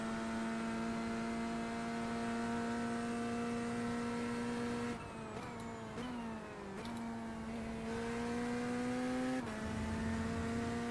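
Corvette GT3 race car in iRacing: a loud, sustained engine whine holding a steady high pitch, broken by quick gear shifts that drop and climb the pitch around the middle and near the end.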